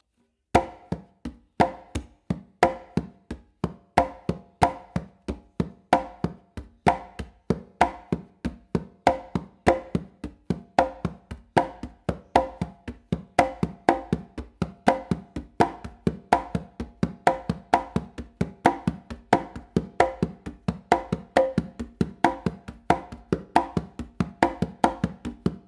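A full clave independence pattern on congas runs continuously at tempo, dense repeated hand strikes layering open tones and slaps in a steady groove, close-miked with no talking.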